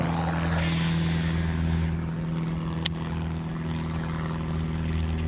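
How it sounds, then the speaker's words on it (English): A propeller airplane drones overhead at a fishing spot, a steady low engine hum that stays loud and continuous, with a brief sharp click partway through. "I got another plane flying over my dang head."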